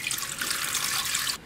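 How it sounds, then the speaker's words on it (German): One liter of cold water is poured into a pitcher for homemade lemonade: a steady, close rushing splash that runs evenly and then cuts off abruptly near the end, with no talking. "Das sind jetzt 1 Liter kaltes Wasser."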